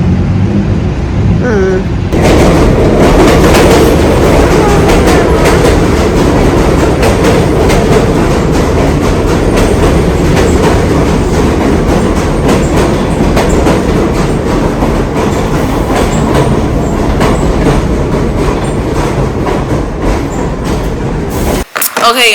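A New York City A train subway pulls in with a loud, continuous metallic rumble and clickety-clack of the cars that fills the station for about twenty seconds before cutting off abruptly.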